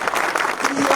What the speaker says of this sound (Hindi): देखिए बच्चे के लिए आप तालियां बजाइए।